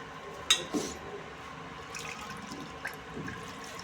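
Water added to a pot of fasting-style potato amti with jaggery, a few splashing drips and trickles at moderate level, starting with a sharp splash then softer liquid sounds.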